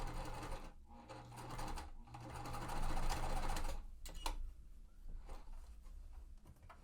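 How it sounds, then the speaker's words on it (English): Sewing machine running a quilt seam in bursts, with short pauses and a backstitch near the end; a steady, fairly close mechanical whir with no talking. "so what I'm going to do is sew right along here real quick, and I'm going to back stitch in where I end"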